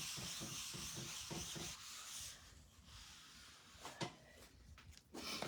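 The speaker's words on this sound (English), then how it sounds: "I'm just gonna take up as much of that paste as I can with the paper towel" A wet paper towel rubbing paste off a dampened transfer, soft close scrubbing strokes in a loose rhythm with a few light knocks and taps, quiet throughout.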